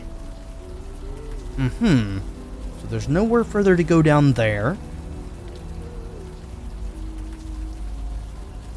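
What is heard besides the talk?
rain falling in the video game Unavowed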